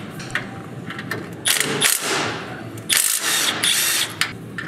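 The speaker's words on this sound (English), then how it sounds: "Remove the lower hardware holding the motor mount bushing to the frame." A power tool whirs in short bursts, pausing and restarting, as lower hardware holding the motor mount bushing is removed from the frame of a Polaris RZR Pro XP, close and mechanical with little else around.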